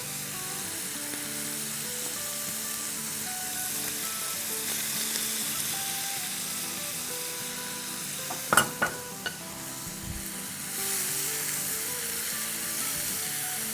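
Ground spices, including garlic powder, fry in a hot pan on a medium-high flame. A steady sizzle runs throughout, broken by a few sharp clinks of a spoon against the pan partway through.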